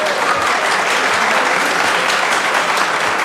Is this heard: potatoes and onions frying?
no